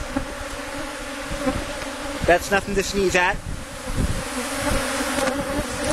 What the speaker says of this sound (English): You can see there are quite a number of bees in the air.